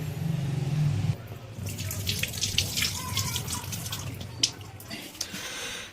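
Running tap water pours steadily over a mix of daliya and lentils being rinsed, with water splashing and dripping in a sink, loud and close throughout.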